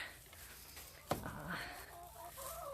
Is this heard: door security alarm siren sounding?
no